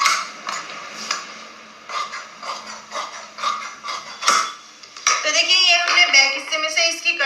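Scissors snip through blouse fabric during cutting for sewing, a run of close crisp metallic clicks and crunches in irregular rhythm, turning louder and denser toward the end, with no talk.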